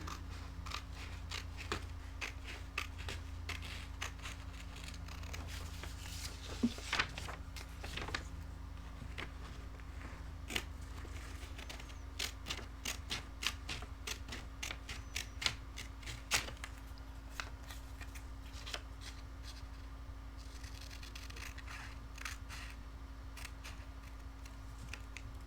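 Scissors snip through paper in many quick, close clicks and crisp cuts spread over a long stretch, steady and fairly quiet, with a low electrical hum underneath and no talking.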